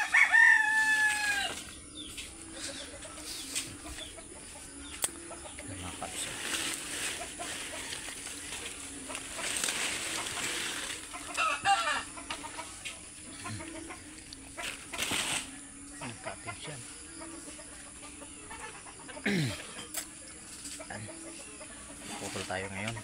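Chickens cluck and a rooster crows outdoors in a yard after a typhoon, the crow opening loudly and followed by ongoing scattered clucks, wing flaps and background noise, with a person talking at times.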